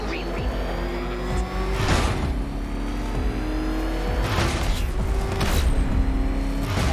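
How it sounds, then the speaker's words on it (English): Batmobile engine in Batman: Arkham Knight revving and roaring steadily throughout, loud and close, with surges of acceleration and a sustained motor drone. "There's more to this test than just going vroom, vroom really fast."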